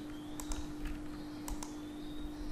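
Keyboard typing during PHP Laravel web development work, a few faint scattered keystrokes over a steady low electrical hum, with no talking.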